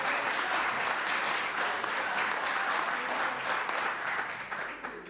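Sustained applause in a provincial parliament chamber, a dense patter of many hands at moderate distance that holds steady and then tapers off toward the end.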